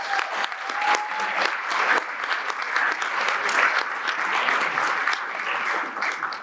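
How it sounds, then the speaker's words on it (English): Audience applause at a Citizen of the Year ceremony in Concord, a steady dense wash of clapping from a crowd, loud and sustained for the whole stretch with a few brief whistles near the start. "Let's give them a round of applause."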